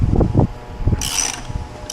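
A socket wrench loosens the lug nuts holding a Jeep Wrangler's spare tire, giving a few close metallic clunks and ratcheting clicks, followed by a brief hissy scrape.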